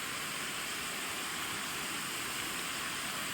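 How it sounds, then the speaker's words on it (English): Natural running water at waterfalls on a hike, a steady, even hiss and rush of falling water heard close and continuous, with no voices over it. "here's the beauty of natural water running"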